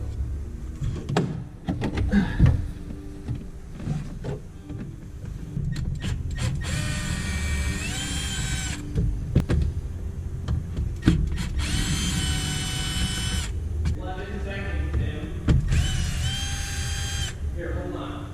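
Power drill whirring in three bursts of roughly two seconds each while removing screws during an Acura TL teardown, set among clanks of parts and tools, with people talking in between.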